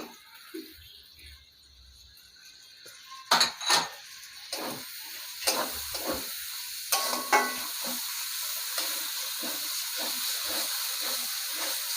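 Tomatoes go onto a spice paste frying in oil for a fish-head and Malabar spinach dish, producing a continuous close sizzle broken by several sharp clanks and scrapes of a utensil against the pan.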